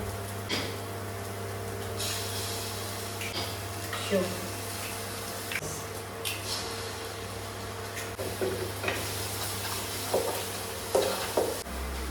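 Egg sizzling in a hot pan for egg fried rice, a continuous frying hiss with occasional spatula scrapes and stirring knocks, while a person talks over it.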